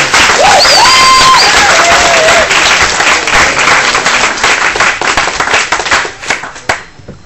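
Audience applause for comedy readers at a writers' festival event, loud and dense clapping from a crowd that holds steady for several seconds then thins and tapers off at the end, with a few brief whistles or whoops early on.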